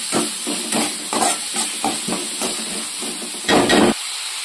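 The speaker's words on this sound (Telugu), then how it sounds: "ఎండు చేపలు వేపిన నూనెలోనే నేను ఆనియన్స్ కూడా వేపేస్తున్నాను అన్నమాట" Onions frying in oil left over from frying dried fish: a steady hiss of sizzling with repeated scraping stir strokes against the pan, close and fairly loud, ending with a brief louder burst of sizzle.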